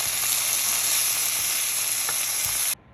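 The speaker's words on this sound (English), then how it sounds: "around here we have Brussels sprouts just sizzling away" Brussels sprouts sizzle in a hot pan, a dense, steady hiss of frying heard close up and alone, with a few small pops, until the sound stops abruptly.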